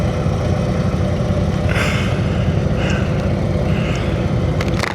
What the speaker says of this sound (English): Actually, I really like the power of that bike, but the engine on it sounds great.